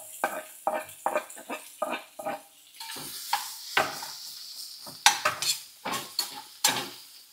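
Onions frying in a pan with a soft sizzle, broken by a rapid series of close spatula scrapes and knocks that grow louder and more spread out toward the end.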